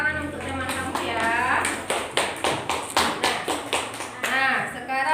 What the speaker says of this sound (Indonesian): Tepuk tangan untuk teman kamu ya.